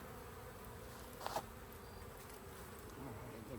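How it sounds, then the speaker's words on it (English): Honeybees buzz around an opened hive with bees in the roof cover, a faint, steady background drone with a brief louder flicker midway. "Lots of bees in the roof there, in the cover."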